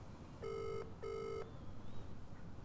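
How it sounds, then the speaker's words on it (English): A call to a UK mobile number rings out, giving the British double-burst ringback tone: two short, even electronic purrs in quick succession, faint and alone in the quiet. "so I am just going to phone him."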